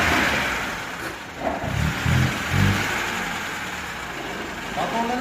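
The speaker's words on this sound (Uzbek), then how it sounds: "Motorlarni qo'yib turibdi, ishlab turibdi." Car engines idling and running, a low rumble with a few brief revs rising out of it, voices talking over the engine noise.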